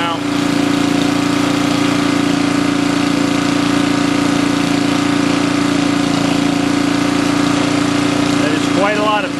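A small engine runs steadily and loudly throughout a fuel run-time test, holding an even idle-like drone with a brief change near the end.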